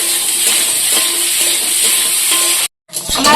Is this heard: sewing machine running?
no